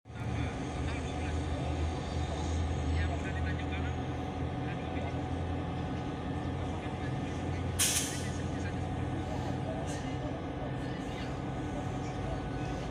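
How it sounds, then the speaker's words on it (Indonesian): A CC 202 diesel locomotive running at a port during a locomotive shipment, a steady low engine rumble throughout with a brief hiss partway through, while people talk over it. "Yang suara itu suara 202 ya teman-teman,"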